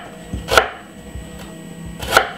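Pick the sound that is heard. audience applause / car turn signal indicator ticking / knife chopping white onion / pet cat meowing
knife chopping white onion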